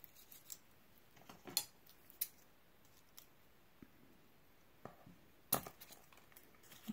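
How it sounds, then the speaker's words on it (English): Scissors snipping through a flower stem during paper crafting, several faint, sharp cuts and clicks scattered irregularly, with one louder snip late on. "Cut off the stem so I could put it right in the middle"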